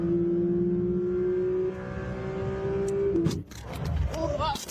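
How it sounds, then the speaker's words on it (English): Porsche GT3 RS accelerating on the Nürburgring track, a loud steady engine note holding for about three seconds before a sharp shift and renewed rising revs, with tire and wind noise underneath. "so now that GT3 RS gets back into the throttle to keep accelerating forward"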